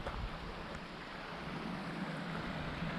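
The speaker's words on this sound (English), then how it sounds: "So we have the river here." A river near an old abandoned mill gives a steady broadband wash of flowing water, mixed with wind rumble on the microphone, constant and fairly faint.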